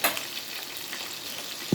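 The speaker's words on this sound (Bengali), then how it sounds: "এদিকে মাছ ভাজা হচ্ছে" Fish frying in a pan during home cooking produces a short, steady sizzle of hot oil at close range, with a brief scraping stir at the end.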